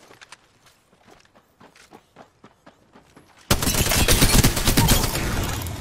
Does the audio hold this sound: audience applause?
no